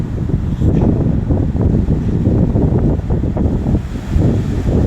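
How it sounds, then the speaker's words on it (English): Strong wind buffets the microphone in continuous low rumbling gusts, loud and close, with no voices. "It's a little windy out here"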